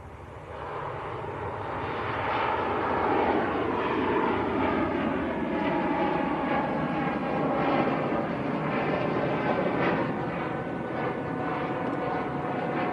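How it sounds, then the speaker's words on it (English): A KLM Embraer E2 airliner on its takeoff roll at Manchester Airport: steady jet engine roar building over the first seconds, with whining tonal bands rising and sweeping, heard at moderate distance without voices. "KLM on the roll, the Embraer E2."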